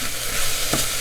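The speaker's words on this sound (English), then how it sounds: "while I'm stirring the onions" Onions stirred and frying in a pan, a steady close sizzle with a brief scrape of the spoon partway through, no voices.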